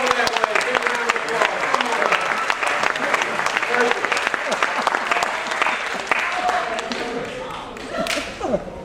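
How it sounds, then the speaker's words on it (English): Audience at a live magic show applauds loudly and steadily, dense clapping with scattered cheers filling the room throughout, while a voice speaks faintly beneath it. "Everybody give him a big round of applause."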